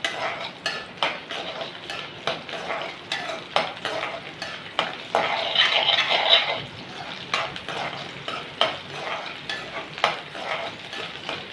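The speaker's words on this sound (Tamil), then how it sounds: "ரெண்டுமே நல்லா வாசனை வர வரைக்கும் வறுக்கணும்." Ingredients for a coconut-free idli and dosa chutney fry and sizzle steadily in a pan, with a spoon scraping and stirring in frequent close strokes over the continuous hiss.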